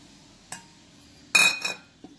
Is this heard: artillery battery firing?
no